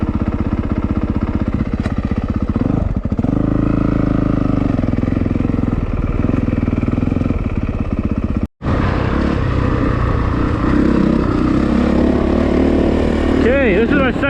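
A 2022 Honda CRF450R dirt bike runs close by throughout, its engine droning steadily with a brief cutout partway through, then continuing with rising and falling revs.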